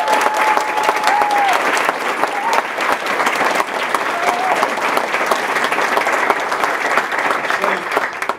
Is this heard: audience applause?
yes